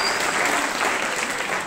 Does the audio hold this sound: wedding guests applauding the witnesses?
yes